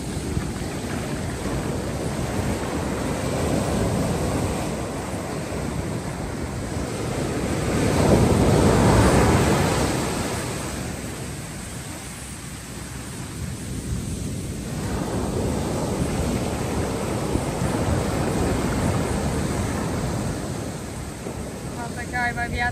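Sea waves surging and washing in along a shore where the water comes up to knee depth, a continuous loud roar that swells to a crest in the middle, mixed with wind buffeting the microphone.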